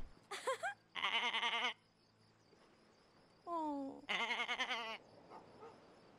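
Several sheep bleats in the video game Summer in Mara, loud, wavering calls in separate bursts with short quiet gaps between them, plus one higher, falling cry partway through.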